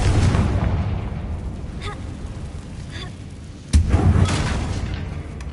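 Confringo blasting spell in a video game, a faint whoosh and crackle early on, then a sudden loud booming explosion near 3.7 seconds that rumbles and fades over the remaining seconds.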